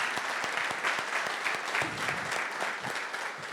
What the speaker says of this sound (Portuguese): uma salva de palmas pelas perguntas